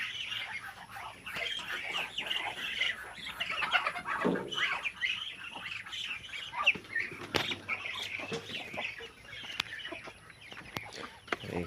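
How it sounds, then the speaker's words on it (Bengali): Native chickens in a farm shed cluck and squawk in repeated bursts, with close wing flapping and rustling throughout and a few sharp knocks. "ওইখানে দেশি মুরগি বসছে।"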